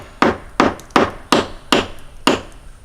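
A 45-70 shell is driven out of a Lee Classic Loader with six steady, evenly spaced knocks, solid and close, each a dull woody thud with a short ringing tail.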